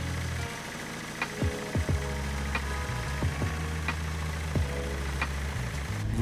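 A BMW E46 M47N diesel engine idles steadily with a low, even rumble, punctuated by a few faint knocks and clicks, after a cooling system bleed.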